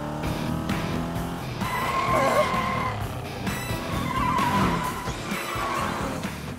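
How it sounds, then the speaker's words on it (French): A tiny toy car in a Polly Pocket cartoon makes revving engine and squealing skid noises in quick bursts, with whirring, tire-screech-like tones rising and falling over a light music bed. "c'est une mini-voiture qui fait des bruits de mini-voiture"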